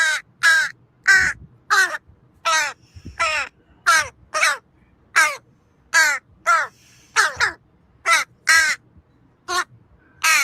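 A crow caws loudly and close by in a yard with chickens, giving about a dozen sharp, harsh calls in a steady, evenly spaced series with no talking.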